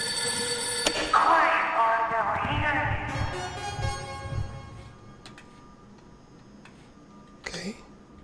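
A telephone rings in the horror game Night Security, set in an abandoned school. The bright, bell-like ringing comes through in the first few seconds, then fades into quieter ticking and scattered game noises.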